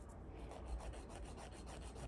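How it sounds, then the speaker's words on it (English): A nail file rasps back and forth across fingernails in steady, rapid strokes, a soft close scratching rhythm with no voices. "Now I'm about to file these nails down"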